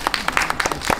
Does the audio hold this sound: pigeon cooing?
no